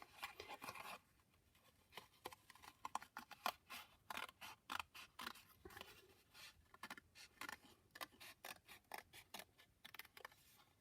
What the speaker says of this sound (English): I think I'm just going to cut it round carefully.